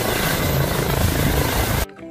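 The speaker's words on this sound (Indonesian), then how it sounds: "Wadidaw, ada helikopter." A toy helicopter buzzes and whirs continuously at close range, then cuts off abruptly near the end.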